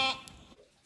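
A sheep waiting to be shorn after being penned indoors overnight gives one short, faint bleat that fades quickly.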